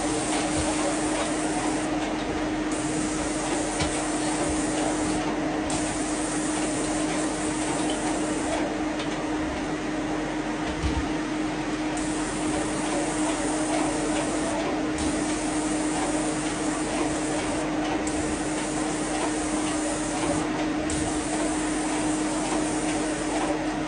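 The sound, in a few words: Graco airless paint sprayer spraying a wardrobe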